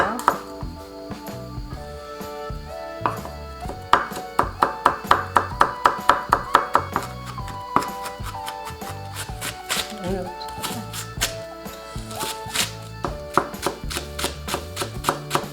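A knife chops radish on a cutting board in quick, even strokes, a run of crisp knocks that speeds into a tight rhythm and then continues more loosely, with a steady tonal background underneath.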